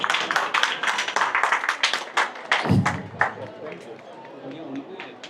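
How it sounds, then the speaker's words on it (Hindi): An audience gathered for a Signature Greens apartment community event claps steadily to welcome a guest, the quick dense claps running throughout with voices mixed in. "पाटिल जी के लिए तालियां बजा के स्वागत किया जाए।"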